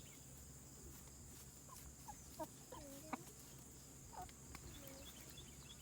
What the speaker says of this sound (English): First time having the chickens in the run.